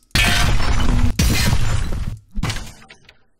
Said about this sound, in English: we've got trailer hits, subsonic hits.